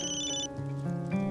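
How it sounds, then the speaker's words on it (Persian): A telephone rings for Ms. Rana with repeated electronic ringtone tones, clear and close, with no voices over it. "با تلفن خانم رنا زنگ است"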